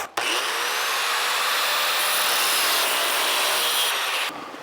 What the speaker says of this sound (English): So we're going to have to cut the bolts off.